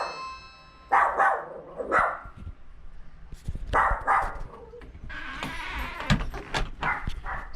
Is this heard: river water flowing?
no